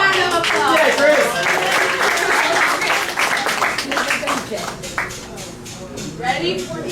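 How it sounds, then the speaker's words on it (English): Audience applause at a live comedy or variety show, sustained clapping mixed with cheering voices and a presenter talking over it throughout, moderately loud and close. "Round of applause."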